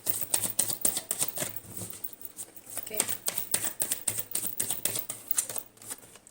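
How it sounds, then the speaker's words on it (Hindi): Tarot cards riffle and slap through repeated quick shuffles, a dense rhythmic patter of close crisp flicks running throughout while a voice talks intermittently. "let's shuffle the cards"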